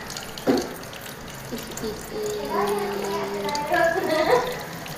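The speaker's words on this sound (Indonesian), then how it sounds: "deras kali airnya lo Ali" Water streams strongly onto a black cat named Ali, with a continuous splashing rush rising and falling while voices talk over it.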